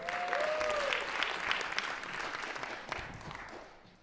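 Audience applause for a school band's drummers and keyboard players at a morning news broadcast, a steady wash of many clapping hands that holds level for about three seconds and then starts to fade.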